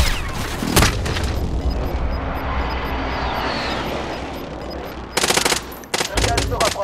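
Automatic gunfire crackles in a Call of Duty Warzone battle royale match: a sharp shot, a long rumbling stretch with distant fire, then rapid close bursts near the end.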